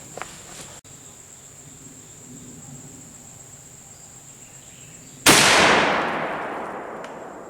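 A single loud, sharp shot from a Knight black powder rifle firing a conical bullet at a range, with an abrupt crack followed by a long decaying rumble, over steady insect chirping.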